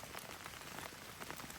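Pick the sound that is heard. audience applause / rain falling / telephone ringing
rain falling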